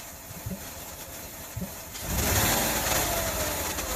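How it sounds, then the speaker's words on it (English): A 2005 Ford Escape with a misfire and a faulty ignition-coil driver circuit idles roughly with a few uneven knocks, then revs up loudly around halfway through and holds a raised, steady engine roar to the end; no one speaks. "We'll just try to rev it up again."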